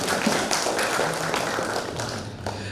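A crowd at a regional innovation award ceremony in Cirebon Regency gives a dense, steady round of clapping that stays loud and even throughout, with no talking.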